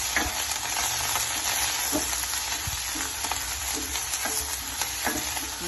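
Onions and curry leaves fry in a pan for a carrot palya, with a dense, even sizzle throughout and soft irregular stirring scrapes close by. No voices are heard.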